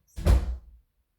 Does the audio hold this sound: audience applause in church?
no